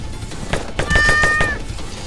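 Cat meows in the video game Xolta: a rhythmic series of short mews, one long clear tonal meow in the middle, over a busy background of game sound.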